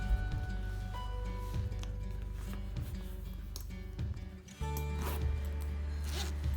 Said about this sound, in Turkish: Ardından fermuarlarını kapatıyorum.